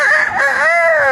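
A rooster crows once, loud and close, a single drawn-out rising and falling call lasting about a second with no other sounds around it.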